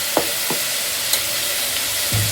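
Chopped spinach and tomato hitting a hot pan for dal palak, giving a steady frying sizzle with a few soft stirring clinks and a thicker hiss near the end, close and unaccompanied by talk.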